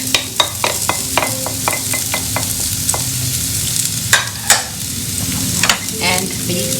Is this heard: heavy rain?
no